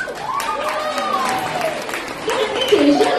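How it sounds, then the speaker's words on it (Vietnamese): A crowd applauds Vietnamese women's line dancers at a community event in Winnipeg, with steady, fairly close clapping that lasts throughout while someone speaks over it. "một lần nữa hãy dành cho họ một tràng pháo tay được không ạ"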